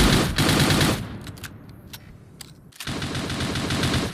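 Bursts of rapid automatic gunfire in the video game Cyber Hunter, loud and close, with a quieter stretch of scattered single shots in between before another long volley.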